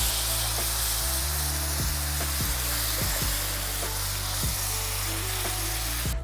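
Chicken broth poured into a hot pot for one-pot chicken and yellow rice, a loud, continuous sizzling hiss with periodic clinks and scrapes as it hits the hot base, no talk.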